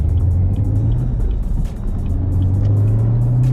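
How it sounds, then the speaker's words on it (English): A McLaren sports car engine idles loudly with a steady low drone, briefly dipping and then swelling as the revs rise and settle again during an automatic rev-matched first-gear downshift, no talking. "I'll put it now into the automatic rev match so you guys can hear the difference"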